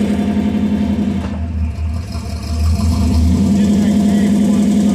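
Engine of a 1949 Studebaker gasser running steadily close by, a loud low rumble that dips briefly and then swells back up, with voices talking over it.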